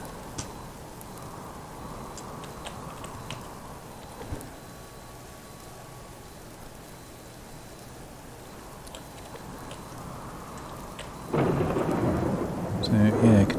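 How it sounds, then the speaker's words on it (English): Thunderstorm with steady rain falling around a valley, a low distant roll of thunder in the middle and the downpour growing much heavier and louder toward the end, with no voices. "I could do without the thunderstorm."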